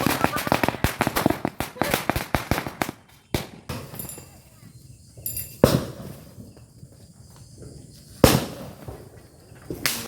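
Diwali and Kali Puja firecrackers go off: a rapid string of crackling pops, then several separate loud sharp bangs with quiet gaps between, and voices faintly in the background.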